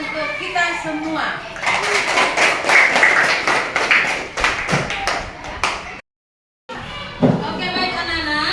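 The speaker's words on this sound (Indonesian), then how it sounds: "Tepuk tangan untuk kita semua." A classroom of children in a Merauke school claps in quick, patterned bursts, with young voices chanting along, a brief gap of silence, then more talking and clapping.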